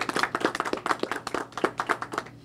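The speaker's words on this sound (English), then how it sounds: "So a round of applause for Frank." A round of applause from a small gathering honoring a bakery owner at a business event: distinct, fairly close hand claps in an uneven rapid rhythm, crisp and moderately loud, with no speech over them.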